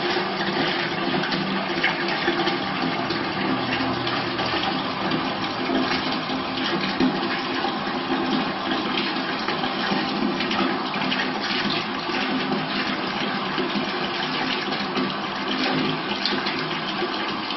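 Water pours steadily into a utility tub during a septic hydraulic load test in a house, making a continuous loud rushing, splashing stream that stays even throughout with no speech.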